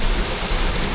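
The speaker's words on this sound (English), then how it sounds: "It's still a little bit rainy" Rain falling steadily at sea during a morning squall on an ocean passage from Sint Maarten to Aruba, a dense continuous hiss with low rumble, loud and unbroken, no voices.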